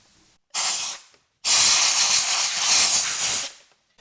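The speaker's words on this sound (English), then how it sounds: "When my compressor kicks in, it gets really loud." A compressor working on a 2018 Audi SQ5 interior refresh blasts loud, broadband hissing air: a short burst of about half a second, a brief pause, then a sustained two-second blast that cuts off abruptly, with no talking.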